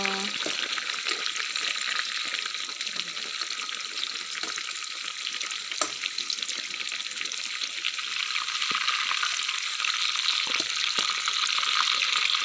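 Bamboo shoots fry in a pan with a steady, bright sizzle that stays fairly loud throughout, with occasional faint clicks and taps of stirring.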